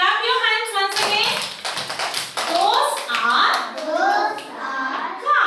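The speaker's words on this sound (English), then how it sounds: "Clap your hands once again." Young kindergarten children clap their hands together in an English class, a cluster of quick sharp claps heard between a teacher's spoken words.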